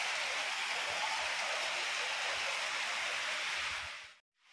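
Steady rain pours down during a downpour at a home where laundry is hung to dry, a dense continuous hiss that holds evenly for about four seconds before cutting off abruptly.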